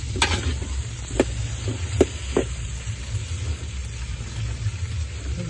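Vegetables for pakoda kuzhambu frying in oil, giving a steady low sizzle under a constant hum, with a few sharp clicks and scrapes of stirring near the start.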